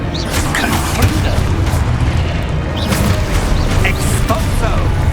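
A booming fire spell blasts in Hogwarts Legacy, a dense, constant barrage of low rumbling bursts and pops with no pause, a voice talking beneath the din.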